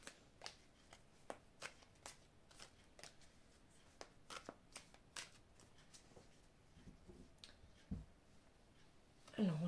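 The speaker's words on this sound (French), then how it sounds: "je vais couper le jeu et je vais étaler les cartes" Oracle cards are cut and spread out on a table, giving soft, faint papery flicks and slides in an irregular series, quiet and close.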